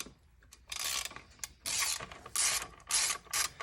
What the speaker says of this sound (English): we need to use our 10mm socket and loosen this up